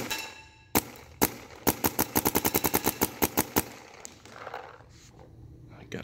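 A Clone VXI airsoft gun fires indoors: two single shots, then a fast burst of about a dozen loud, sharp cracks in even rhythm, followed by quieter handling noise and room echo.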